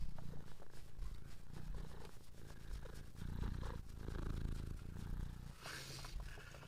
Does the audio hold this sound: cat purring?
yes